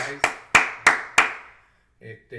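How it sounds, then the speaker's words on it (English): A lone person claps four times in a steady rhythm, each clap sharp and close, fading into silence before a voice begins speaking. "One guy clapping, yeah!"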